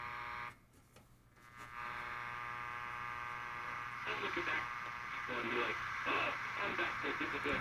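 1939 marble-cased vintage radio receiving, giving a faint distorted buzzing hum with fluttering bursts of garbled noise that swell and fade.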